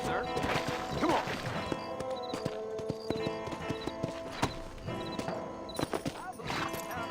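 Horse hooves in the Red Dead Redemption video game: brisk, close clip-clop of a horse at a steady gait over game music and ambience, with a whinny, some thuds and someone talking.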